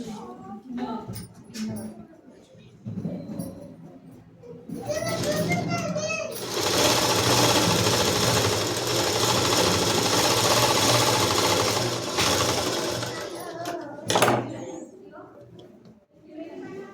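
An electric sewing machine stitches a school dress in a tailoring lesson, running as a sustained, rapid whirring burst for several seconds after stretches of voices, then stopping as talk resumes.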